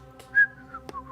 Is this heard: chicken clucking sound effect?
no